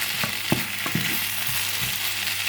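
Food sizzling and frying in a pan, with a utensil scraping and knocking as it is stirred, a few distinct stirring clacks over a constant close hiss.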